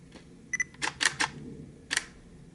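A Nikon DSLR shutter fired through a Neewer SmartGrip battery grip: a few faint button clicks, then a crisp cluster of close mechanical shutter clacks, and one more click a moment later in a quiet room.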